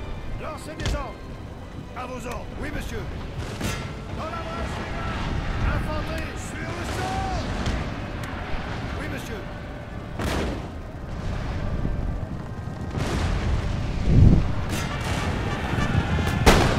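Artillery booms and volleys of musket fire ring out across a Napoleon: Total War battle, with scattered heavy thuds amid a constant din of battle and someone talking over it.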